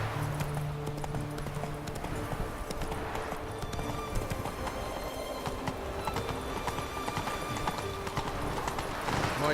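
Horse hooves clip-clop at a steady gallop in The Witcher 3, a continuous rhythmic pounding with occasional whinnies over game music and ambience.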